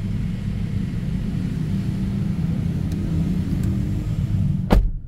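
Mitsubishi Xforce Ultimate compact SUV engine running after start-up: a low, steady idle rumble heard from inside the cabin, with a single sharp click near the end.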